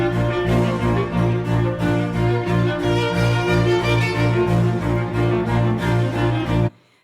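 Balanced Bach music with roughly even power across bass and treble, full harmonic texture playing steadily and loudly without talk before cutting off sharply near the end.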